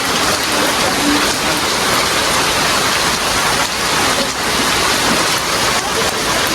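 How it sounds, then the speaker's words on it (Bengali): Heavy rain pours down steadily, a loud, dense hiss of drops on surfaces close by that continues without a break. "বৃষ্টির আওয়াজটা শুধু একটু শুনুন।"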